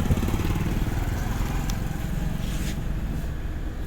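A car engine idles and runs steadily at close range in a learner's car at a driving school, a low continuous rumble with faint intermittent clicks and no clear talk.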